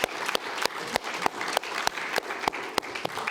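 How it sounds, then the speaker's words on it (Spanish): A church congregation claps in slow, steady unison, each beat a sharp, distinct crack repeating about three times a second over a faint murmur of the room. "Un aplauso, por favor."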